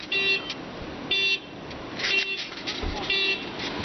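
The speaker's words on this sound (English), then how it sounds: "Oh, it's a car." Car horn honking outside during a blizzard, several short toots in a broken rhythm, somewhat distant and muffled against wind noise.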